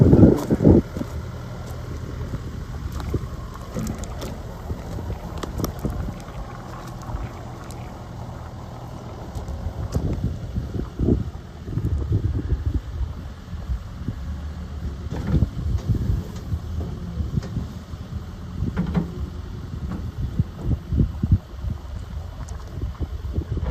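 A 2014 Caterpillar 305E CR mini excavator with a 20-inch five-tooth Caterpillar bucket runs with a steady low engine rumble and hydraulic surges, heard outdoors with some wind noise on the microphone.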